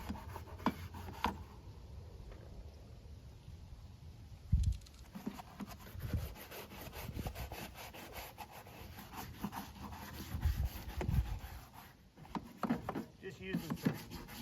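Vegetable oil is scrubbed onto a hot smokehouse pipe with a fire going. Soft, uneven rubbing and scraping runs under faint talk for about fourteen seconds, with a few louder knocks and clunks.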